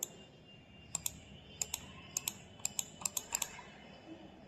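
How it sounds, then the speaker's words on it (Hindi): A computer mouse button is pressed repeatedly, giving about ten crisp, close clicks in uneven pairs and small clusters over a quiet background, with no voices. "बटन दबाने पे क्लिक की साउंड आती है या नहीं आती है?"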